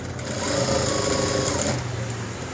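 A sewing machine stitches a school uniform coat in one steady, loud, close run, a continuous fast mechanical whir lasting the whole moment.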